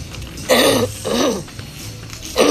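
Three short, harsh coughs close up, separated by brief pauses.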